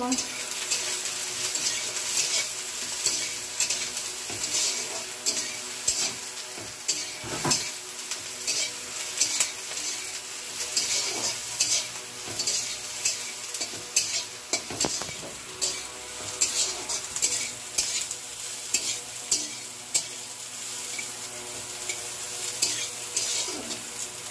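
Kharkol leaf paste being stirred in a pan on a village stove, with a steady sizzle under repeated scraping and clattering strokes of a spoon against the pan, close and fairly loud throughout.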